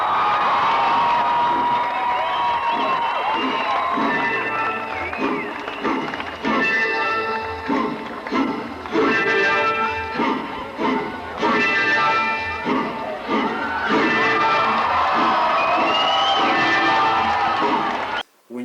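A concert crowd cheers, whistles and whoops loudly and continuously to welcome a performer on stage, the roar holding steady for many seconds before cutting off abruptly at the end.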